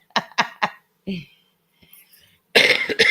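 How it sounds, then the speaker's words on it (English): Several short, sharp human coughs close to the microphone in a quick run, followed after a pause by a loud, rough burst of coughing or throat clearing, with faint voices in the quieter gaps. "Sorry for the coughing, folks."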